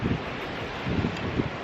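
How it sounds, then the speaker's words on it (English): Wind gusts at an outdoor campfire on a river trip, a loud steady roar of buffeting against the microphone with a couple of stronger surges. "now the wind's got back up again"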